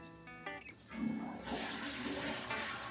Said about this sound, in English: send water directly into the toilet.